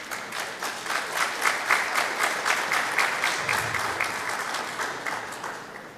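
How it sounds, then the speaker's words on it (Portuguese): Audience applause fills a technical agriculture meeting hall in Campinas, a dense, sustained clapping that swells in the first seconds and then slowly tapers off, with no talking over it. "Uma salva de palmas, por favor."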